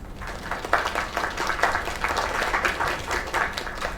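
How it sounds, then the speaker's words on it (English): Audience applause from a crowd in the video game Lake fills the whole stretch as a steady, dense wash of clapping at moderate loudness, with no voices on top. "Another round of applause."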